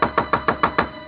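Six sharp, evenly spaced knocks on a door in a radio drama, close and loud, with no voices.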